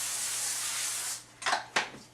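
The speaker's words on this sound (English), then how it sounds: "take some non-stick spray and spray it on top of the parchment" Non-stick cooking spray hisses steadily from a can onto parchment paper lining a baking sheet, one long spray followed by two short bursts, close and fairly quiet.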